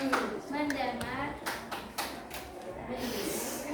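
Children in a classroom clap a short rhythmic focus pattern. The sharp claps are spaced among the children's and teacher's voices, which continue throughout.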